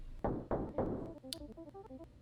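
A house door shuts in the horror game Rental, with three heavy, hollow thuds in quick succession followed by softer clicks and faint tonal rattles, fairly quiet overall.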